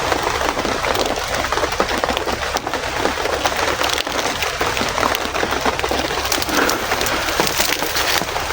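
Rain falling steadily outdoors, a dense continuous hiss of drops with faint bird or dove calls mixed in, loud and unbroken throughout.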